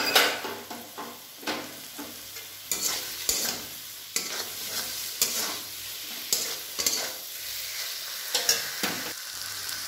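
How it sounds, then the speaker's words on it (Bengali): Fried eggplant is stirred into a Bengali-style fish curry in a pan, with repeated scraping stirs over a soft, continuous sizzle and occasional clinks of the pot, close and without talk. "এবার এর মধ্যে আমি ভাজা বেগুনগুলো দিয়ে দেব।"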